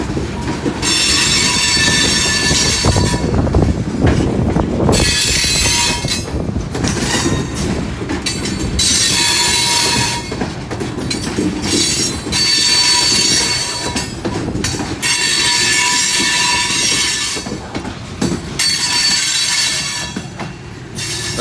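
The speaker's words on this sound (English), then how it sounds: "I still hear those locomotives working hard." Heavy freight train locomotives labor loudly up a grade near Seaman, Ohio, their engines roaring continuously while wheels squeal and rail cars clatter past, with no talking.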